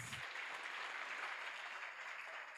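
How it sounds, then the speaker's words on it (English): Members of a Lions Club district gathering in Uganda applaud themselves, a brief, faint wash of steady clapping from a distant crowd. "by giving yourself another round of applause"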